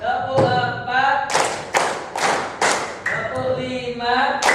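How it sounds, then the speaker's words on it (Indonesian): A group claps in a counted rhythm during a school teachers' academic supervision session: sharp, separate claps arrive in a steady sequence while a voice calls out between them. "Tepuk 1, tepuk 2, tepuk 3, tepuk 4,"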